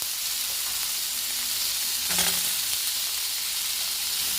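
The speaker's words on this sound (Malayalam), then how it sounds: "നല്ലപോലെ ഒന്ന് വഴറ്റി കൊടുക്കാം." Onions sauté with ginger garlic paste in a pan, a loud, steady, close sizzle and hiss that runs the whole time, with a brief stirring scrape about midway and no talking.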